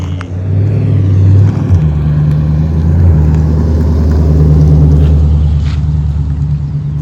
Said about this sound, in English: a car was going by